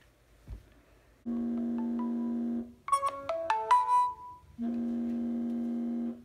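A phone ringtone plays near and clear: a steady electronic buzzing tone, then a quick rising melodic jingle, then the buzzing tone again, with no talking.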